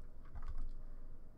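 Quick, soft typing on a computer keyboard, a short cluster of light key taps heard close up.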